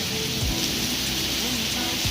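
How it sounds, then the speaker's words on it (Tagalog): Heavy rain with small hail pours down in Riyadh, forming a loud, unbroken hiss of water hitting surfaces, steady and close, with no distinct gaps. "Ang lakas ng ulan with ice pa from the start."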